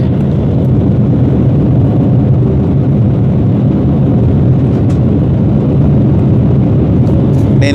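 Loud, continuous roaring rumble of a jet airliner braking on the runway after landing in Chicago, steady and broadband throughout with no pauses.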